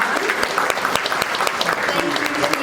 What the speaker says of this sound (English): So how about a round of applause for our lovely ladies?